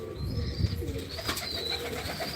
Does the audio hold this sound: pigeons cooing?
yes